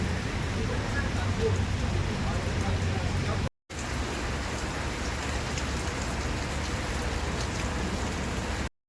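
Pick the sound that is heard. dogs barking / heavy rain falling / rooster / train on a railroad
heavy rain falling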